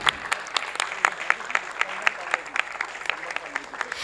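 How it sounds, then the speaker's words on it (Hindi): An audience at a theatre play applauds in a dense, sustained patter of many hands, moderately loud and steady throughout, with voices faintly mixed in. "तालियों की गूंज दोबारा से गुजारिश है आप सभी से, कम नहीं होनी चाहिए."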